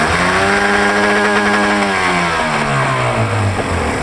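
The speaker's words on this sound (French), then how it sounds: "Là, c'est le 130 chevaux qui a démarré." A 130-horsepower outboard boat engine on a lagoon runs loud and near, revving up and then sliding down in pitch as it settles.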